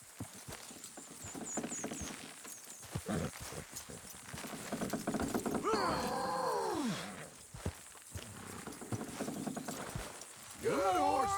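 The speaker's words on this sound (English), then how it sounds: "Horses will pull it clean down." Horse hooves clop over a busy background, a horse neighs, and wood creaks and groans as horses strain to pull down a building while voices talk; from Red Dead Redemption 2.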